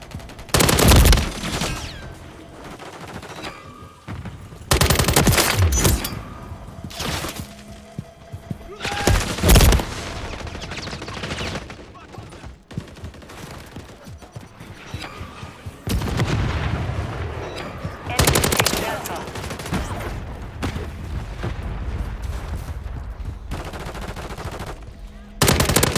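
Heavy automatic gunfire and bursts in Call of Duty: Modern Warfare III, loud and near, with repeated machine-gun volleys, sharp single shots and booming impacts running through the whole stretch with brief pauses between exchanges.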